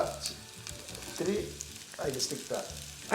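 Shallots fry in hot oil with curry leaves for a breadfruit and duck egg curry. The oil sizzles quietly, with a few louder spattering bursts and stirring scrapes.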